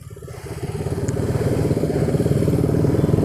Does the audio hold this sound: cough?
no